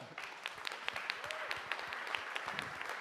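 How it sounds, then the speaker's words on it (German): Steady applause from a crowd, a continuous patter of many hands clapping with a few sharper claps standing out, moderately loud throughout. "und danke nochmal und Applaus für den Walter."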